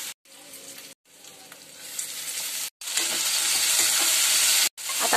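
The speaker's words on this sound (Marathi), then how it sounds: "आता बटाटा थोडासा कांद्याबरोबर परतून घेतला का म्हणजे लवकर शिजतो तेलामध्ये" Potatoes and onion frying in oil with green chili, garlic and curry leaves make a loud, close, hissing sizzle that swells stronger over time, broken by a few abrupt moments of silence.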